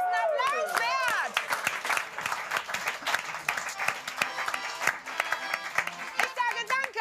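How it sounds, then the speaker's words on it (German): Studio audience at a German late-night music and talk show applauding, with cheers and whoops over the opening seconds, then steady dense clapping running throughout the clip. "Das ist ein Applaus wert."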